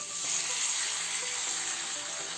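Tomato puree sizzles in a hot pan while cooking a spinach and tomato dish, a steady, fairly loud hiss of frying that holds evenly throughout with no voices.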